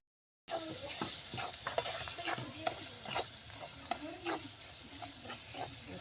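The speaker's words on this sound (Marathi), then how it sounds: "हा बघा आपला सगळा मसाला भाजलाय" Masala of garam masala, turmeric, red chili powder and salt roasting and sizzling in a pan for dry bombil masala, with a spoon scraping and stirring in steady, close, fairly quiet strokes over a constant hiss.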